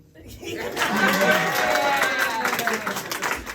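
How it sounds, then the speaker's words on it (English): An audience at a live poetry performance breaks into sustained clapping that swells quickly and holds steady, mixed with crowd noise and scattered voices. "if y'all proud of me, clap after I say the line"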